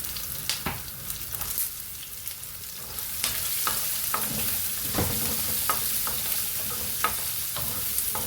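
Cashews, ginger and garlic frying in a pan, a steady loud sizzle punctuated by repeated scraping clicks of a stirring spoon against the metal, with no talking.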